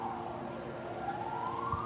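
An ambulance siren wails through a city park in Kharkiv, its tone sliding slowly upward as it passes at a moderate distance over steady outdoor background noise.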